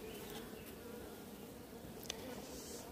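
A honeybee swarm buzzes as a steady, dense drone, faint and even throughout with a slightly distant feel and a brief click near the end.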